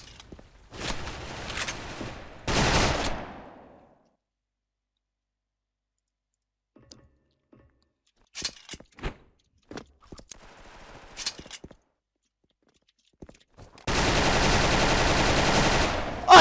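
Gunfire in the Special Force (SF) video game comes in short separate bursts and single shots with long silent gaps, ending in a loud sustained volley, with faint clicks between.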